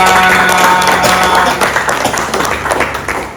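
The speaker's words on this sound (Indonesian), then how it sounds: "Tepuk tangan." Audience applause at a Halal Bihalal and Labour Day thanksgiving gathering held by Toton Group, loud and dense, with a faint tone early on and voices mixed in as the clapping thins out.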